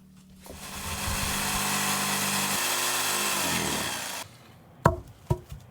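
A power saw cuts wooden rafters at an off-grid outhouse build in Alaska. It is a loud, steady whine lasting about three seconds, then it winds down, followed by a few sharp knocks of wood.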